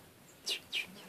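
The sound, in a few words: young swallow chirping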